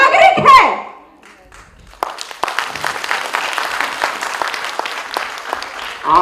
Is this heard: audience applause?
yes